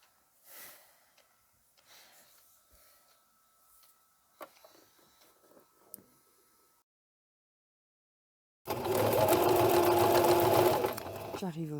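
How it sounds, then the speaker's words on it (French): A sewing machine runs a long continuous topstitch seam on a small shoulder bag, loud and steady for about three seconds after quiet handling noises and soft rustling. "on vient refaire une couture, donc tout le long, et on fera une surpiqûre comme on a fait juste avant"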